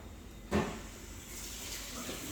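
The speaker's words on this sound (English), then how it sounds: "the first thing that I will do is, I will go and wash my hands." Tap water runs steadily as hands are washed before a local anaesthesia clinical exam station, with a brief louder splash early on and then a constant hiss of flowing water; no voices.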